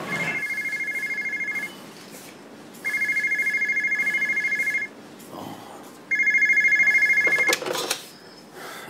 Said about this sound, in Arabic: استر يا رب اهو بيرن